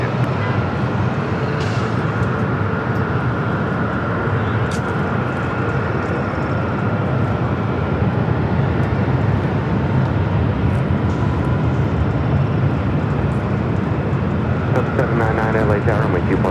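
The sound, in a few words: airliner taking off from LAX runway 24 left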